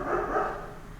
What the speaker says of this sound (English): That's my dog again. You guys hear it?